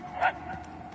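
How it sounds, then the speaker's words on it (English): A single dog bark, distant and brief, with a person calling out nearby. "The barks are getting louder at least."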